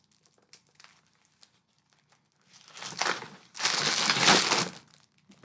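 Plastic mail bag heavily sealed with sellotape being cut open, heard as close crinkling and crunching plastic that builds over a few seconds into a loud, sustained rustle, with no talking.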